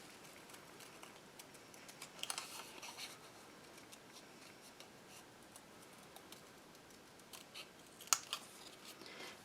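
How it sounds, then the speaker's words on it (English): Quiet snipping of paper pieces being cut for a handmade bee-themed flipbook craft, with a few soft scissor cuts and rustles near the start and a sharper snip toward the end. "you can always cut little pieces, images out of your papers like we're doing here too"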